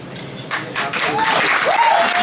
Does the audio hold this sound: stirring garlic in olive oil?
no